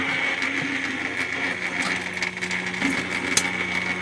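A Gemini die cutting machine rolls an embossing plate through, a steady mechanical hum and whir with a low drone and a few small clicks and knocks. The sound runs continuously and does not slow down.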